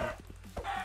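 Minecraft chicken clucking in short, close game-audio bursts, a couple of quick clucks within under a second with no talk over them.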